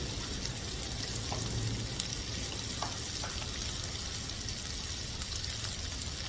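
Spice masala fries in hot oil as a kadhi tempering, a dense, even sizzle and crackle that holds steady throughout, with a couple of faint stirring taps and no speech.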